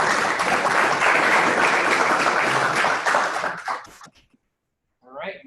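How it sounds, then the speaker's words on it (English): Audience applause after a talk at a scientific seminar on mummy berry biology, dense steady clapping for about three seconds that thins into a few scattered claps, followed by a brief voice. "Let's give Dumpy a big round of applause."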